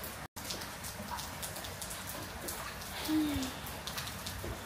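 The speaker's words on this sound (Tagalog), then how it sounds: "Malamig, maulan." Rain falls on a cool, wet morning in Australia, a soft, constant patter and hiss with one brief dropout near the start.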